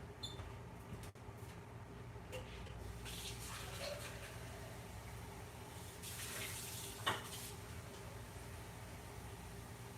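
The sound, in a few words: tap water running while fetching water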